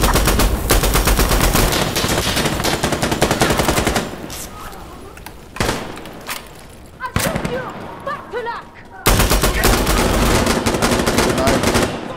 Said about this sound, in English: Cypher shooting